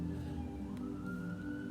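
Emergency vehicle siren sounding outside, a steady wailing tone heard at a distance under indoor room noise, continuous throughout with no talk.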